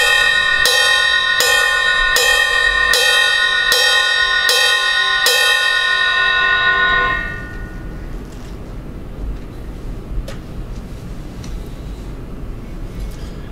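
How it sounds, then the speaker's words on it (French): The shoulder of a drumstick strikes the bell of a drum-kit cymbal seven times in an even, steady rhythm, each hit a bright, loud, ringing ping, then the ringing cuts off and low room noise remains. "Nous utilisons toujours l'épaule de la baguette et nous allons frapper sur la cloche"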